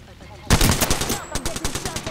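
Automatic gunfire aimed at the player in Apex Legends starts abruptly as a loud burst, then settles into a rapid stutter of sharp shots with a thin ringing tone over it.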